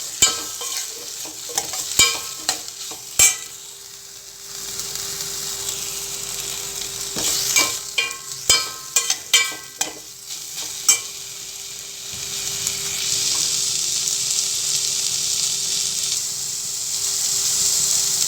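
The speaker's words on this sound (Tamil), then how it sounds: "இப்போ தேங்காய் துருவி எடுத்துருக்கேன், அதை ஆட் பண்ணி நல்லா வதக்கிடலாம்." Grated coconut and tomatoes frying together in a pan for brinjal kulambu paste, with a steady sizzle, scattered clinks and scrapes of stirring that cluster in bursts, and a broader, louder sizzle building toward the end; no talking.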